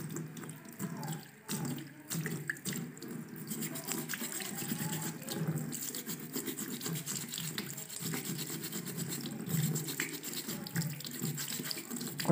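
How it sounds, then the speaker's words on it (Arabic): Water runs steadily from a tap into a sink, with scrubbing and splashing sounds mixed in throughout. "زي ما احنا شايفين المياه نازلة عاملة ازاي."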